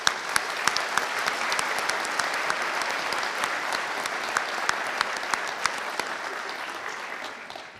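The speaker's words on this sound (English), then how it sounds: "So you might practice your applause for Julianne." Steady applause rolls through the audience at a University of Galway winter conferring ceremony, a dense wash of many hands with a few sharper nearby claps standing out, and no speech on top.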